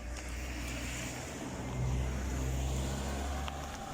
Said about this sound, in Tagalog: Ayan, yung sasakyan.